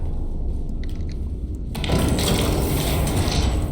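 An armor-piercing shell loaded into a gun in the tank game Iron Nest: after a quiet start, a loud mechanical ratcheting clank sets in and keeps grinding and clattering to the end.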